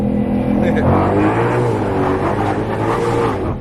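A Shelby GT500 fitted with a full-weld drag pack pulls hard under heavy acceleration, its loud engine note rising and dense throughout, with people talking over the roar inside the car.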